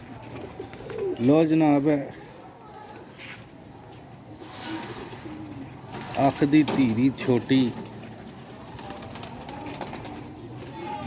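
Pigeons coo in two clear bouts of rolling, warbling calls, close by, with someone speaking in between and over a steady background hum.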